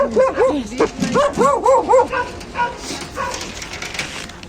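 Dogs in kennel enclosures barking and yelping in quick bursts, loud and close at first, then trailing off into softer whimpers.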